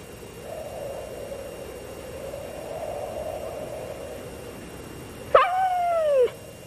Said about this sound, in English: Tramp, I told you about that whining.